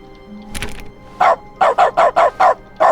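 Stanley barks like a dog in the video game The Stanley Parable: a sharp click comes first, then seven short, loud, evenly spaced barks close by.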